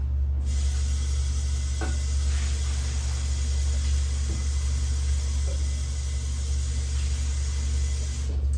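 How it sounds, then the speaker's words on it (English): Kale leaves are rinsed and massaged under running tap water, a loud, steady hiss of flowing water with faint rustling and splashing of leaves throughout. "So I always massage my kale when I'm rinsing it."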